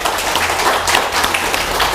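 A crowd at an evening outdoor TV show broadcast from a café in Banyuwangi claps loudly and steadily, a short continuous burst of applause.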